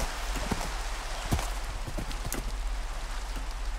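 Horse hooves clip-clop in Minecraft: a handful of crisp, irregular hoof taps over a low steady hum, fairly close and unhurried, with no talk.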